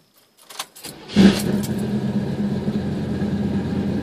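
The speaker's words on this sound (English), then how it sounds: "Bryon, why don't you turn that bad boy on and let's take it for a little ride" A 1969 Chevelle starts with a rattle of keys and a brief crank, then catches into a loud, steady low idle rumble that continues to the end.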